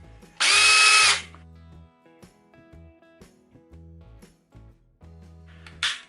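A Black+Decker BCD700S 18V cordless combi drill runs briefly at its faster speed setting, a loud whine of under a second, then near silence with small handling clicks before it starts again at the end.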